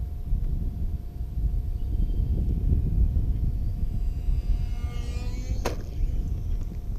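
A UMX Turbo Timber Evolution RC plane flying outdoors, its steady electric motor hum heard amid heavy wind noise on the microphone, with a brief sharp whine near the end.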